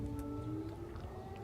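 Airstrike alert sirens sound in Lviv city centre, a steady sustained wail of layered tones that holds without a break, heard at a distance over a low background rumble.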